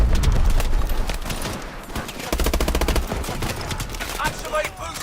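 Automatic weapons fire in an Advanced Warfare combat mission, fast rattling bursts and single cracks layered close together, loud and continuous with brief lulls, with voices calling out over the battle.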